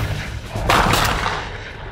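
A single shotgun shot from a dove hunt on private land in Nevada, one muffled, fairly distant boom with a short rolling tail over steady outdoor background noise.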